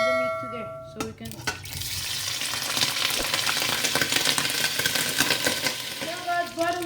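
Meat dropped into a pot of hot oil for okra soup, bursting into loud steady sizzling after a clank of metal, with brief clinks of utensils and a bit of tonal background sound at the start and end.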